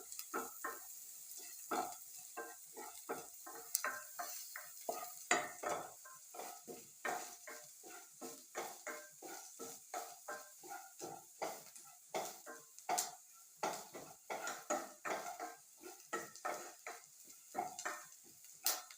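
Onions fry toward golden brown in a pan for a yogurt curry, with rapid, repeated spoon strokes scraping and tapping close by over a quiet, steady sizzle.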